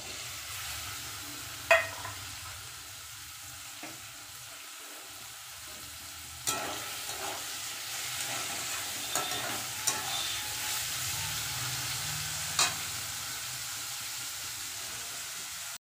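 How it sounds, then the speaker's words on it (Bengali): Bitter gourd sizzles in hot oil seasoned with nigella seeds, a steady moderate frying hiss. Occasional sharp clinks and scrapes from stirring break through it, and the sizzle swells slightly in the second half. "এবার উচ্ছেটা ভাজবো।"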